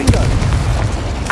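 A Confringo spell explodes in Hogwarts Legacy, a loud booming blast with a sharp burst at the start and a rumbling low body, ending in a second bright crackle of magic.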